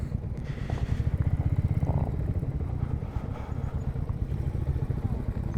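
A Royal Enfield Meteor 350 motorcycle rumbles steadily while riding on a long road trip toward Kachchh, a loud, close, continuous low engine drone with light clatter and faint wind.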